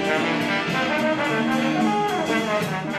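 A band plays jazz with full ensemble horns and rhythm section, a steady, moderately loud swinging passage with no voices.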